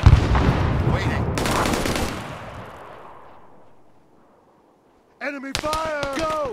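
Rapid gunfire bursts from a military video game set in Western Sahara, loud and dense with overlapping shots in the first couple of seconds, fading to near silence, then a shouted voice over renewed firing.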